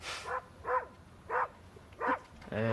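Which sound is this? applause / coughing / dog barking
dog barking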